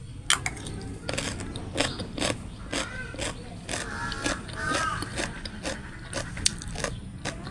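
Someone eating a lunch of vegetables, egg and fish, potato and eggplant curry, with soft close crunching and chewing in an irregular rhythm, plus faint clicks from plate and utensils.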